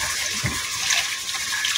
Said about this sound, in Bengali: চাউলটা ধুয়ে নিই